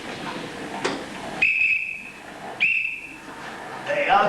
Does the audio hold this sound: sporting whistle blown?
yes